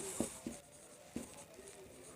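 Marker or chalk strokes squeak and tap on a board as an English example sentence is written out, giving a few short scratchy strokes at an uneven pace with quiet pauses between them.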